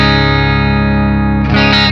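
Electric guitar through a Beam Mini amp on a British-voiced distorted setting: one sustained, heavily distorted chord rings loudly, then a quick restruck flourish before it stops abruptly.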